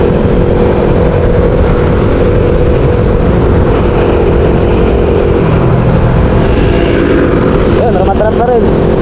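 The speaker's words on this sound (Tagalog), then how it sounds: "Ayun, may isa pang motor sa likod namin." Motorcycles riding along a road from Lucban to General Nakar in Quezon, a steady loud engine drone and wind rush throughout, with a rider talking over it and a brief rising rev near the end.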